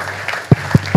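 A church congregation claps at a priests' convocation, with a dense roar of applause and three heavier, evenly spaced rhythmic beats near the end over a steady low hum.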